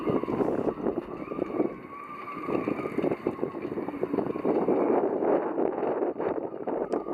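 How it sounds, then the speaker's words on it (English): Strong westerly wind buffets the microphone on an exposed coast along the Firth of Clyde, a steady loud roar with gusty rumble throughout and no talking. "we got what they promised, wind."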